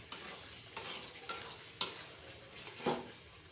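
A pan of raw mango pickle is stirred, giving about five quiet scraping strokes at an even pace over a soft, faint sizzle.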